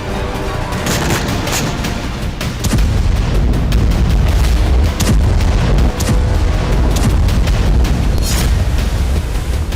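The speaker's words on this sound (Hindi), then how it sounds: "इजरायली सेना ने गाजा पर अब तक का सबसे बड़ा और प्रचंड बारूदी प्रहार कर दिया" Heavy blasts from Israeli army bombardment of Gaza boom at night, a dense, loud rumble punctuated by repeated sharp explosions and crackling impacts, with no voices.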